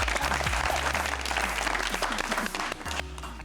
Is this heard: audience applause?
yes